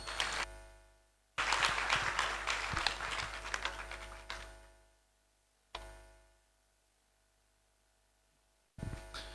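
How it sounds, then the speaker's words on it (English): Attendees at a university lecture series clap for the moderator, a short burst of applause that stops abruptly, with low background hum and brief further sounds later. "please clap for me"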